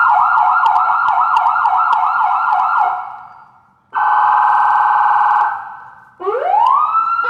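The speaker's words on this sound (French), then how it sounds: "il y a toute une série de sonneries" Electronic siren ringtones play one after another: a fast wailing warble, a steady two-tone blare, then a rising whoop, loud and close.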